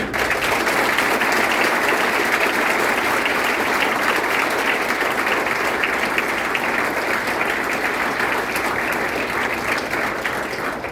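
Audience applause welcoming a guest speaker at a talk session, a steady dense clapping that holds loud and even throughout with no speech over it.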